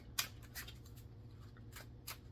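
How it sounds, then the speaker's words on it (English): A deck of tarot cards is shuffled by hand in a quiet room: soft, papery riffling bursts at irregular intervals, close and fairly faint. "So I'm going to shuffle again for"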